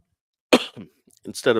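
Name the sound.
cough into microphone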